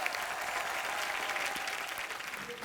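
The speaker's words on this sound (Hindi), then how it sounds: "आपकी जोरदार तालियों के बीच इनवाइट करना चाहूंगा" Loud, dense applause from a studio audience welcoming the host of an Indian television comedy show, a continuous wash of clapping hands sustained evenly throughout without any speech.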